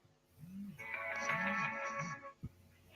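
A phone ringtone plays a repeating melodic tone pattern over a couple of seconds, moderately loud and close, then cuts off abruptly with a click.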